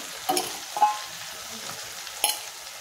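Dry fish and drumstick pieces drop into a hot pan for an egg and dry fish curry, giving a soft steady sizzle broken by three sharp clattering bursts as they land and are stirred, with no talking.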